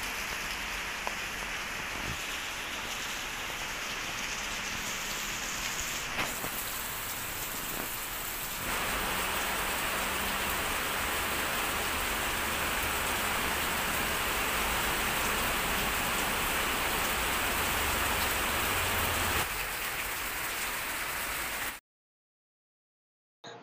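Steady light rain falls outdoors in Kankavli, Konkan, on a monsoon day, a continuous hiss with the patter of drops on surfaces, even and fairly close, with no voices, cutting off abruptly near the end.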